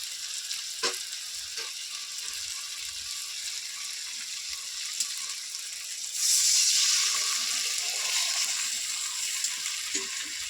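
Okra and peanuts frying in a pan give a steady, fairly close sizzle with occasional stirring clicks, and partway through a surge of water poured in brings a louder, brighter hiss that then eases back.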